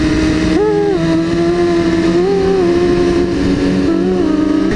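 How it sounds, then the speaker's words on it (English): A loud, close Porsche engine drones steadily, its pitch swelling in several revs before settling back, with no voices. "It's just this car just being loud"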